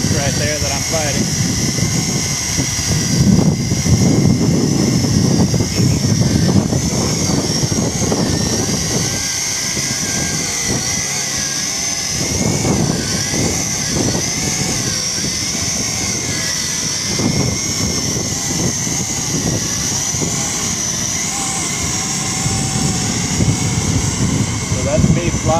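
A JJRC H28C quadcopter drone with a gimbal flies into a strong wind of about 15 mph with gusts near 20 mph, its rotors giving a steady whining buzz that wavers with the gusts. Wind rumble and a voice come in over it at times.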